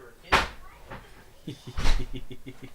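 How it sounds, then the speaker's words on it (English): A door is opened with a sharp knock-like thud, then a second heavier bang followed by a rapid series of rattling taps, close by amid some movement. "Open the door."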